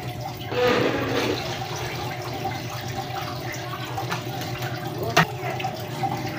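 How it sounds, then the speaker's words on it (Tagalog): Water runs and splashes into a homemade wooden waterfall aquarium with three water layers, a steady loud pouring rush throughout, with a brief clunk near the end. "lagyan natin ng tubig. Ayan, may tubig dyan, bali 3 layer ang tubig niyan."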